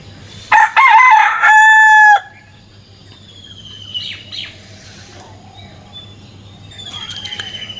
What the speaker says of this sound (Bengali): আর মোরগের ডাক শুনে